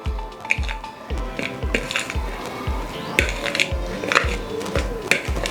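A fork works pastry dough in a bowl for Jamaican beef patties as cold water is added bit by bit, giving steady rhythmic scraping and clinking strokes about twice a second, close and clear with no talk.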